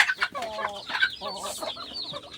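Labuyo wild junglefowl chickens cluck repeatedly in a farmyard, with several close, uneven calls overlapping in quick bursts.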